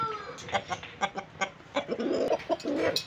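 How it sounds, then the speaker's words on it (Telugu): A Pachakaki rooster of Tamil Nadu lineage, about 24 in tall and 3 to 3.5 kg, gives a run of short, sharp clucks in an uneven rhythm, close and fairly loud, with no voices. "దీన్ని పచ్చకాకి అని అంటారు"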